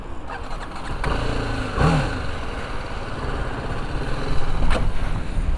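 A BMW G310 GS motorcycle engine runs near and fairly loud, idling with a brief rise in revs partway through and a rougher surge toward the end.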